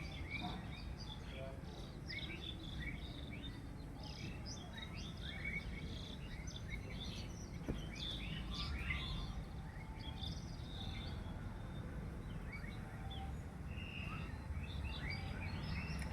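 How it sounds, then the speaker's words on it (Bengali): Morning birdsong outdoors: many small birds chirp and tweet in scattered bursts, with a steady insect buzz and a low background rumble throughout. "আমাদের বাইরে কেমন পাখির কিচিরমিচির করছে সেটা দেখাই।"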